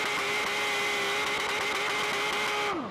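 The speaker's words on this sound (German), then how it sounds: "Das Ganze lief schon im Drehzahlbegrenzer des ersten Ganges ab" A Porsche Carrera Cup race car engine screams steadily at the first-gear rev limiter while the car spins on the Norisring street circuit, a loud sustained high-pitched wail that drops sharply in pitch near the end.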